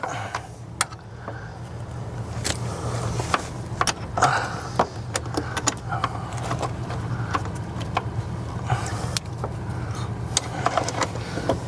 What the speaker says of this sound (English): we're just getting them bolts snugged up